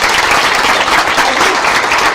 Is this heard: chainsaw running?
no